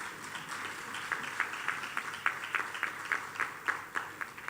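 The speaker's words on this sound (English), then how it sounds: "Can we give them all a big round of applause?" Audience at an education conference claps steadily in a moderate burst, individual claps rising and falling in an even patter, heard from within the room.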